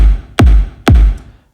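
Two punchy tech house kick drum hits with reverb and no EQ play in Ableton, each a deep booming thump with a heavy, muddy low-end tail ringing out between beats.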